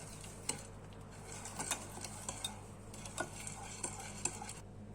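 Sugar being stirred by hand into oil in a bowl for a margarine-free hazelnut chocolate cookie dough, giving soft, steady scraping and clicking spoon taps against the bowl, fairly quiet and close, with no talking.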